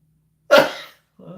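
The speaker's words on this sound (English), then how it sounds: "Oh, why am I sneezing?" A single close, sharp sneeze bursting out of silence and fading quickly, followed by a soft brief vocal sound.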